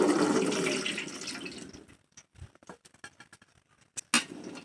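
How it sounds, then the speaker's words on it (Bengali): Boiled peas and their water being poured onto a perforated plate to drain, a rushing splash that fades into scattered drips and soft patters, close and fairly quiet. "ঢেলে দিয়ে এভাবে জলটাকে ছাড়িয়ে নেব।"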